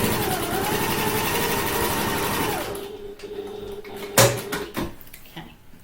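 A sewing machine runs steadily in a close, continuous stitching burst, sewing a reinforcing line inside the corner of a handbag, then stops, followed by a few light clicks and knocks.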